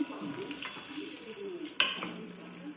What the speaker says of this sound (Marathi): त्या तेलात मसाला परतून घेते मसाला परतला की त्यात वांगे टाकतो